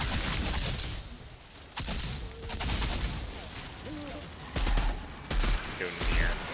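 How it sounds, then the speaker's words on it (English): Flame-bullet gunfire in the shooter game Outriders, with sharp shots that come in short irregular bursts among battle noise, while a voice is heard over the action. "Nice thing about these flame bullets is that I don't even have to hit."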